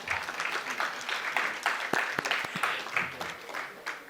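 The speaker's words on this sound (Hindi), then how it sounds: "एक बार जोरदार करतल ध्वनि से ताली बजाइए" An audience at a seminar session claps loudly and vigorously, a thick, continuous burst of many hands with sharp individual claps standing out, swelling and easing across several seconds with no talking.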